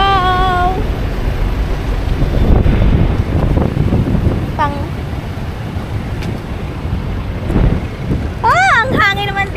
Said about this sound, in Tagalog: Ang hangin naman dito sa Dubai.